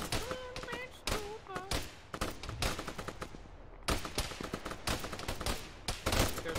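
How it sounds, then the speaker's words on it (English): Gunfire in the Arma military shooter game during a ShackTac squad battle at a bridge: dense, loud bursts of rifle and machine-gun fire crackle in rapid volleys, with radio-style voices talking over parts of it. "They're still shooting at him."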